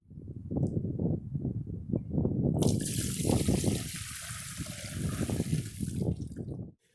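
Dirty water from an upholstery stain extractor pours and splashes steadily into a drain, a sustained rushing flow with a hissy spray joining partway through.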